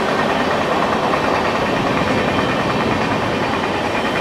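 Rajdhani Express train on the Howrah–Barddhaman line pulling away and gathering speed, a steady loud broadband rumble of wheels and engine filling the whole stretch with no pauses, heard close by.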